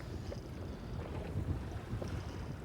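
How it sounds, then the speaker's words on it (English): A low, steady rumble of boat noise churns throughout, faint and muffled with some wind buffeting, no voices. "Keep away from the noise of the boat."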